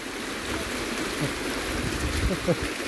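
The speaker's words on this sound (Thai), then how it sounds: "น้ำไหลลงมาจากในถ้ำ" Continuous rushing of water flowing out of a cave at Wat Tham Phothisat, Nong Hin, Loei, Thailand, broadband and steady, with faint voices mixed in underneath.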